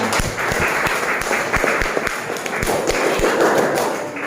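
Applause for a speaker named Min during a classroom session on explaining skills: a small group claps in uneven, close thumping beats that keep going for several seconds.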